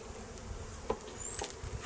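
Honeybees buzz close by at a hive in a steady, droning swarm, with a few louder passes as individual bees fly near.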